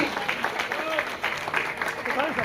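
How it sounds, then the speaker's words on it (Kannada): An audience at an honouring ceremony held by an employees' association applauds a guest with steady, moderately loud crowd clapping while a voice speaks over it. "ಚಪ್ಪಾಳೆ ಮೂಲಕ ಅಭಿನಂದಿಸಿ"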